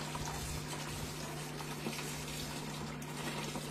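Tap water runs into a container being filled for a fish tank, giving a faint, steady, continuous hiss with a low electrical hum beneath it.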